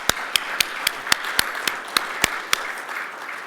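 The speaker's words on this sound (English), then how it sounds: "A little round of applause for our mayor." Sparse, rhythmic clapping for the mayor at a water workshop welcome, about a dozen sharp evenly spaced claps close by over a faint background of scattered hands.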